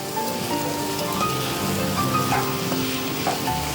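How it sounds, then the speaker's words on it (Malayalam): Two large chopped onions sizzle in a pan with chicken pieces, a steady hissing fry that stays even and close, with faint stirring and no speech. "2 വലിയ സവാള അരിഞ്ഞത് ചേർക്കും."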